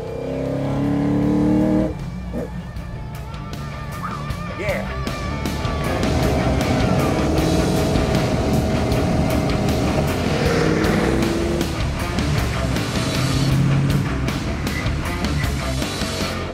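A Ford XR GT Falcon with a V8 supercar engine growls and revs on the move, loud and close, the engine note rising and falling continuously, with a brief spoken word over it.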